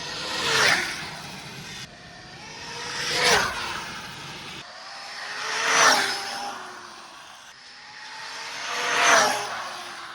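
A high-throttle RC car sold as capable of 100 mph and run out of the box makes four loud passes. Each pass builds to a whining, revving peak and then fades, spaced about every two to three seconds, with no talk.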